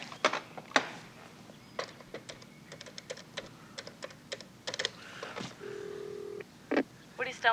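Telephone being dialed: a run of quick clicks and short tones, then a steady held tone, with voices and other room noise around it.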